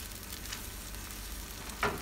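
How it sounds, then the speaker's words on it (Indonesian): A spice paste with shrimp paste sautés in a pan for an Indonesian eggplant sambal, giving a brief, faint, even sizzle with a small stir or clink near the end. "Lalu ditumis sampai bumbunya benar-benar matang."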